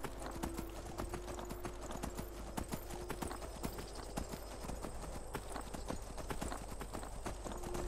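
A horse trots in Skyrim Special Edition, its hooves clip-clopping in a steady rapid rhythm, close and continuous throughout, with a faint game ambience beneath.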